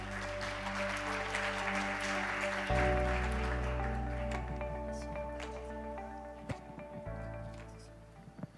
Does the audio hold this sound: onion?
no